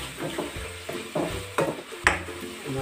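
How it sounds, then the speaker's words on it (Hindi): Red chili powder, coriander powder and spices being stirred in a pan, about five distinct scraping strokes of a spoon against metal over a soft low sizzle, close and fairly loud. "लाल मिर्च पाउडर 1/2 चम्मच, मिक्स करेंगे"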